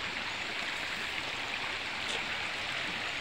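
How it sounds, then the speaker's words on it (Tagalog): A small, shallow mountain stream runs over a rocky bed, giving a steady, close, unbroken rushing and babbling with no voices. "sapa lang to guys."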